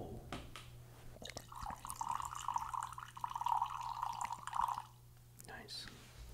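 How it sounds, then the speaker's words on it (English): Coffee streams into a vessel in a steady trickling fill lasting about three seconds, fairly close and soft, with quiet voices murmuring before and after. "that is coffee pouring"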